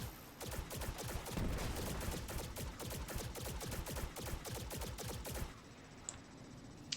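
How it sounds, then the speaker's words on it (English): Rapid, dense automatic gunfire from the Destiny 2 video game rattles loudly and continuously for about five seconds, then cuts off, leaving quieter in-game ambience with a few faint isolated clicks. "Who's shooting?"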